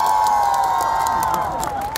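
A crowd at an outdoor national community leaders' convention applauds and cheers for a trot singer's performance, a loud, sustained roar of voices with a steady tone running through it.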